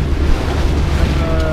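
A sailboat motoring under engine across the Norwegian Sea, with a steady low engine rumble buried in heavy wind buffeting and rushing water, all loud and continuous.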